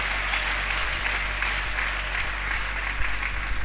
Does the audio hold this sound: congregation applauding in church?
yes